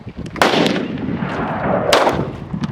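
Gunshots ring out at an outdoor shooting range in Queen Valley, two sharp loud reports with a short echo tail over background noise.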